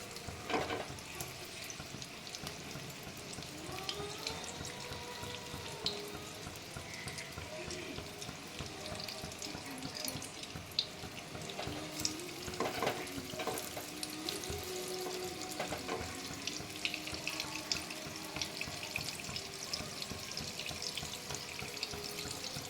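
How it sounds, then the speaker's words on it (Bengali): Homemade sweet potato tikki patties shallow-frying in oil in a pan, a steady soft sizzle running throughout with occasional clinks and scraping, no talking over it. "এই 4টে প্রথমে দিয়ে দিলাম, আস্তে আস্তে আমি একটু ভেজে নেব।"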